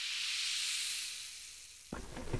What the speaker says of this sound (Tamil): நல்லா ஃப்ரை ஆகிடுச்சு. அதுக்கப்புறம் தக்காளி சேர்த்துக்கலாம்.